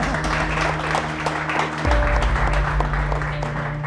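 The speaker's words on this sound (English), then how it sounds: "Let's give an applause." An audience at an education luncheon breaks into applause, a dense run of clapping over a low hum that grows fuller and louder about halfway through.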